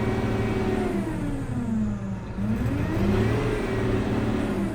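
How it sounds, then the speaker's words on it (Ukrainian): A YTO LX 1404-A turbocharged tractor engine revs steadily for several seconds, its drone rising and falling in pitch, loud and close with no voices. "давайте трошки навіть дамо обертів, щоб ви почули, як він звучить"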